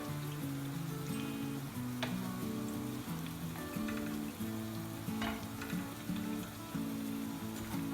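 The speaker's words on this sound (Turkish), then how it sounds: "ara ara şöyle sallayarak tavamızı mis gibi lokum kıvamında pişirelim" Monkfish pieces with mushrooms frying in a pan over high heat, giving a close, steady sizzle with bursts of crackling spatter, while the pan is occasionally shaken.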